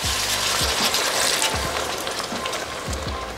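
Coconut water is poured into a hot pan of chicken, a splashy liquid rush over steady sizzling with occasional low knocks from the pan.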